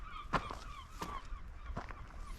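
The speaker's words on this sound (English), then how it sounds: "it's got to be seals. It's coming from the rocks out to sea there." Seals call from rocks out at sea off a coastal path, a few distant, honking cries spaced irregularly over soft background wind.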